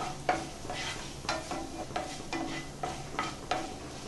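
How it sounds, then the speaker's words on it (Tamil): Cumin and ginger fry in hot oil in a pan, a steady close sizzle with a spoon stirring and scraping at regular intervals, no voices. "நெக்ஸ்ட்டு ஜீரகம் பொன்னிறமானதும் இஞ்சி ஆட் பண்ணிடலாம்"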